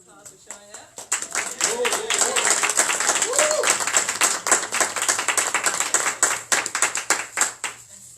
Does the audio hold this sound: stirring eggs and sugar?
no